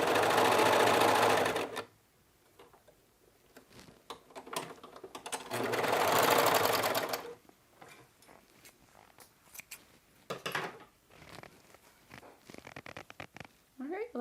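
A sewing machine stitches a bra band to its cup in two loud bursts of rapid mechanical whirring, each about two seconds, separated by quieter handling noises and brief speech.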